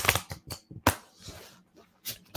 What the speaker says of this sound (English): I'm going to shuffle this deck as much as possible.